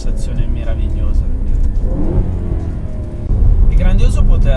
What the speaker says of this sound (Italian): mi riesco a godere pienamente il sound di questo motore ed è una sensazione meravigliosa